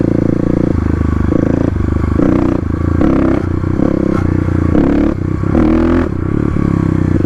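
Kawasaki KLX351 dirt bike with a big bore kit, ridden while lifting the front wheel into a wheelie; the loud, close engine revs and drops in repeated surges, with rattling from the bike and no one speaking.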